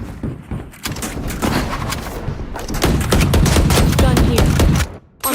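Valorant match with rapid bursts of automatic gunfire and repeated sharp shots, loud and dense, building to sustained fire before a brief drop; faint voices sit under the shooting.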